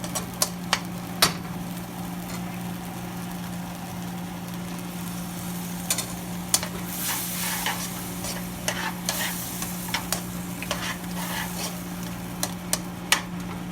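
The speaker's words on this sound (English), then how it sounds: "then you cook your meat" Beef and broccoli stir-frying in a pan for an American Chinese-style dish, with a steady sizzle under a low hum and sharp utensil clicks and scrapes scattered throughout, close and moderately loud.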